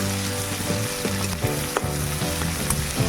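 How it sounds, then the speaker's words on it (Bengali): Chopped onion and green chili fry in hot oil in a wok, a steady close sizzle with occasional stirring scrapes and clinks, no voices. "নিয়ে কড়াইতে তেল দিব। পেঁয়াজ কুচি, কাঁচা লঙ্কা কুচি দিয়ে ভালোভাবে ভাজা করে নেব।"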